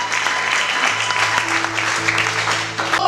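Applause fills a church jubilee gathering of an evangelical mission in Kisangani, a steady dense clapping from a large crowd lasting throughout, with faint voices and a low held tone underneath.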